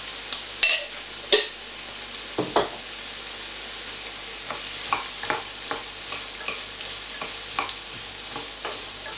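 Carrots and onions frying in a warm pan, a low continuous sizzle with a few sharp utensil knocks early on, then regular soft stirring scrapes.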